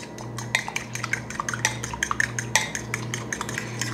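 A fork clinks rapidly against a bowl while an egg is beaten for a homemade tostado, with sharp, irregular taps over a steady low kitchen hum.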